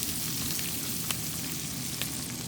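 Egg crumble masala with kasuri methi sautéing in a pan gives a steady, soft sizzle throughout, with a couple of faint scraping clicks from stirring and no voice.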